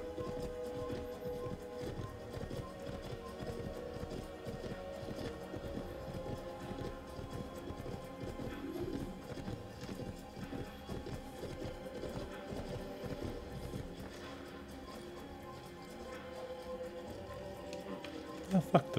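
Horse hooves clip-clopping at a steady gallop in the Assassin's Creed video game, a continuous rhythmic beat under game music and ambience, moderately loud throughout.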